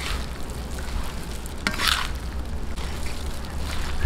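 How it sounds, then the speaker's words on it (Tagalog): A meat mixture for Batangas-style morcon, with sugar just added, is stirred in a bowl, giving a continuous rough, noisy rustle with a few sharper scrapes partway through. "haluin po muna natin bago natin ilagay yung harina"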